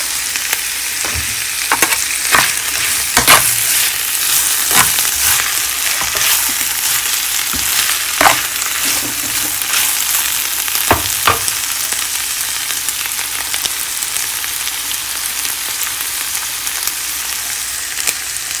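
Chinese fried rice stirred in a pan with little or no oil underneath: a steady, loud dry sizzle runs throughout, with sharp scraping and clacking hits from the utensil at irregular intervals.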